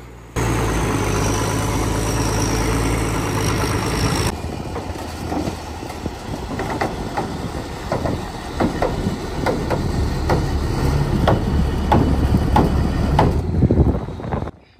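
A Rio truck's diesel engine runs steadily while winching during a concrete Chieftain engine job, a loud continuous drone with repeated clanking and knocking from the winch gear throughout.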